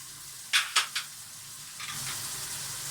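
Chopped tomatoes, two medium ones, drop into a pan of sizzling chicken in three quick bursts of spitting, then a steady fry hiss with light stirring continues, loud and close.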